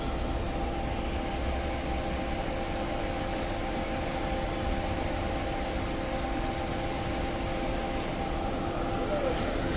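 The A/C compressor of a 2016 Toyota Camry SE runs with a steady, close mechanical hum and whir under engine noise, unchanging throughout, with a voice speaking briefly.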